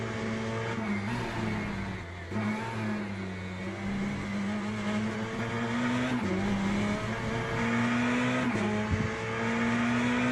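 Onboard a Ferrari GTE race car in the Le Mans Ultimate racing sim, the engine drones steadily up close, its pitch rising through the gears and dipping at each shift, with brief tire noise and no talk.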